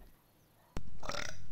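A loud, gassy burp bursts in abruptly after a quiet stretch and rolls on for most of a second in a Counter-Strike game session, standing alone with no talk over it.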